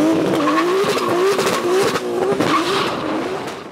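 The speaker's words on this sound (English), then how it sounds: "you're able to just do burnouts and drifts and spin the" Nissan Skyline R32 GTR with 800 horsepower doing a burnout, its engine roaring loudly and steadily with a wavering pitch while the tires squeal and scrub against the pavement close by, with no voices.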